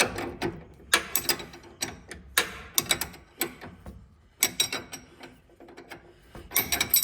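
A wrench backing off a ball joint stud nut during a steering knuckle job, close rapid ratchet clicks in uneven bursts with short pauses between strokes, no talking.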